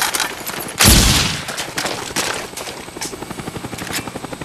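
A friendly Cobra attack helicopter in Call of Duty: Black Ops, a multiplayer Domination match on the Jungle map, heard as a steady rotor chop under bursts of gunfire and a loud boom near the start.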